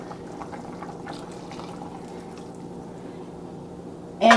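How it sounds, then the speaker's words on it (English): Water poured into a pot of pinto beans being cooked Southern style, a soft steady splashing and trickling under low kitchen noise, ending with a brief louder burst. "you can add you some more water"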